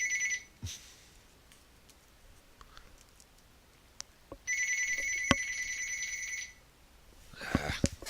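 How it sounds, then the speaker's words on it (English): A phone rings twice amid a Subnautica underwater survival game, each ring a bright electronic trill lasting one to two seconds, fairly quiet against a low ambient hum with scattered clicks. "Darn phone."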